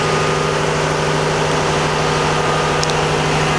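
Steady, loud low drone of an engine running in the engine room of a 37 m steel-hull motorsailer, a constant rumbling hum with mechanical vibration heard close up and alone.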